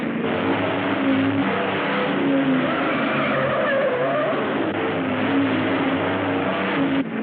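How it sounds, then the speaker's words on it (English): Engine of a pursuing car in a chase, a loud continuous motor roar with tire squeal and skidding, steady and close, no talk over it. "There's a car following us!"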